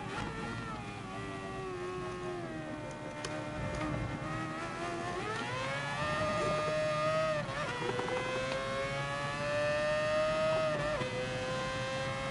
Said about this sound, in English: I love the sound of a quad rotor. It's one of my favorite engine sounds